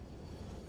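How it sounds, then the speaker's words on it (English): A train in the video game Satisfactory rolls along in a brief, steady, dense rumble just before crashing, with no voices. "since I'm about to have a train wreck."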